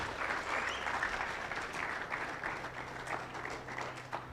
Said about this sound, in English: Continue clapping till she sits